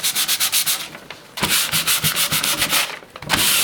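Sandpaper of 220 grit rubs back and forth over a wood veneer surface in quick rhythmic strokes, close and loud, with a brief pause and then a second burst of strokes.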